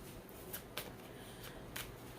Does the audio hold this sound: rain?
no